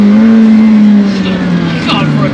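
A McLaren MSO Senna's turbocharged engine is floored, a loud, close, droning tone holding steady and then easing slightly lower over a couple of seconds, with faint tyre noise near the end.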